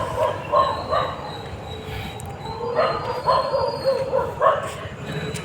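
A dog on a road barks in a string of short yaps and whines, close by and fairly loud, over a low rumbling traffic hum.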